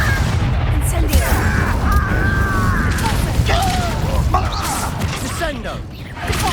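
A fire spell cast during combat in Hogwarts Legacy, a loud burst of crackling blasts and impacts over layered game effects and voices.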